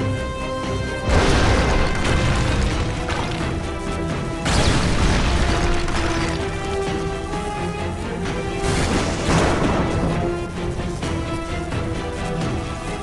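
Catapult shots and explosions in the Rival Kingdoms strategy game, dense booming crashes repeating every few seconds over a constant loud layer of game music and effects, with no voices.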